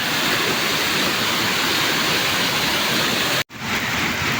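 Heavy rain from Typhoon Carina pours down in a dense, steady roar, broken by a brief moment of near silence before the downpour resumes.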